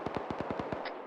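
A BTR armored vehicle's gun fires in Arma 3, a rapid burst of about eight sharp reports in quick rhythm, moderately distant and fairly faint.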